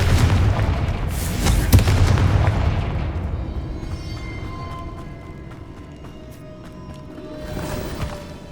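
In the Hogwarts Legacy video game, a Confringo fire spell bursts in a heavy booming explosion with a bright crack, then decays into a lingering rumble and faint ringing tones, rising again briefly near the end; no one speaks.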